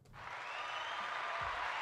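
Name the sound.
audience applause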